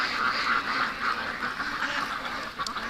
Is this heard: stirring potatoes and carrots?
no